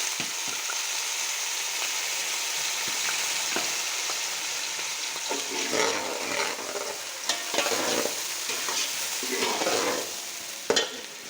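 Desi ghee heats in a cooking pot for desi chicken, giving a soft, steady sizzle with occasional crackles and stirring scrapes, close and moderately quiet.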